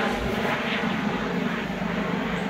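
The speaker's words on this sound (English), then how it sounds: "Helicopter." A helicopter flying overhead gives a steady, loud, broad engine rumble that stays constant throughout.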